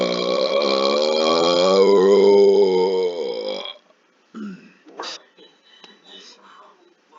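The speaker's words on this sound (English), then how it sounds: "I swallow air to get my burps" A person burps by swallowing air, producing one loud, long, croaking belch that lasts over three seconds, followed by a few brief, faint mouth sounds and muffled talk.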